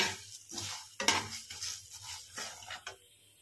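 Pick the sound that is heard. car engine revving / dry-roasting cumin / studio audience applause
dry-roasting cumin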